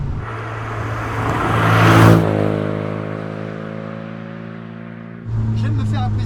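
A small old car's engine roars close by while driving, swelling to a peak then settling into a steady droning hum, with a voice speaking over it near the end.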